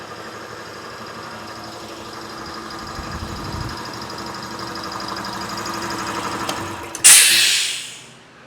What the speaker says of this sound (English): Someone left the compressor on.